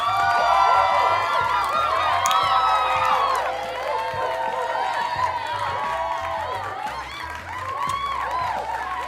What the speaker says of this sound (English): Round of applause to Angie, a.k.a. Baby Steeler.